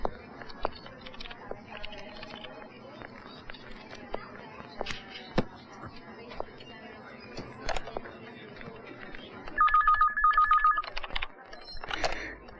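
An office telephone rings in a Hindi film scene, a short burst of electronic ringing near the end, heard over keyboard typing, shuffling and sporadic clicks in a busy workplace.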